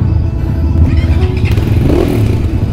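A dirt bike engine revs loudly and close up on a jungle ride near Kathmandu, its throttle rising and falling in uneven bursts with a rough, clattering mechanical rumble.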